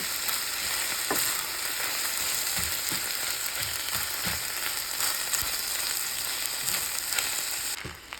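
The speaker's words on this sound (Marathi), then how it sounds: "भात घालून घ्यायचा आहे शिजवलेला आणि मिक्स करून घ्यायचं त्याला प्रॉपरली" Cooked rice is mixed into frying vegetable fried rice, a loud, constant sizzling hiss with repeated soft scrapes and taps of a spoon through the pan, close up and without voices.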